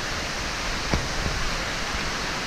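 Steady broadband rushing of a waterfall in a Thai jungle, a continuous even roar filling the clip with a couple of faint brief knocks.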